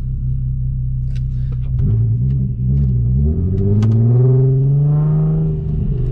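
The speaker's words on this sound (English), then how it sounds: "We're going to put it in Sport, the R36 PASSAT." A VW Passat R36 with a straight-pipe exhaust idles with a deep rumble, then pulls away as the engine rises in pitch through a loud, booming acceleration heard from inside the car.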